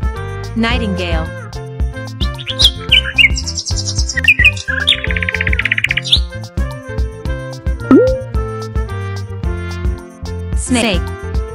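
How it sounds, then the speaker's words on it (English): A nightingale's song of quick chirps, trills and tweets stands out in short bursts over a busy musical backing. "Nightingale."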